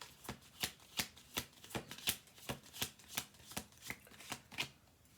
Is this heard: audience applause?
no